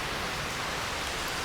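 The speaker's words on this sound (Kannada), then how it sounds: "ಸೊ ಮಳೆ ಅಂತೂ ಸಿಕ್ಕಾಪಟ್ಟೆ ಮಳೆ." Heavy rain pours down at a resort in Coorg, a dense, steady hiss that fills the whole moment without a break and with no voices.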